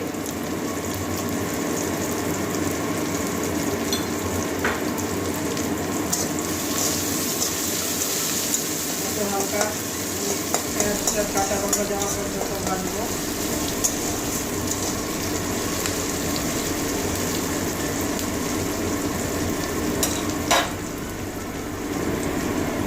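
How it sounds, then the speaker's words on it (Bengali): Onion fries in a pan with a continuous, even hiss of sizzling oil, broken by occasional light clinks and stirring sounds. "পেঁয়াজটা একটু ভেজে নেবো দিয়ে দিচ্ছি আগে"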